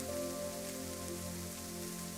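Slow, fine, steady rain falls evenly and continuously on a surface, a soft unbroken patter close by with no thunder and no voices.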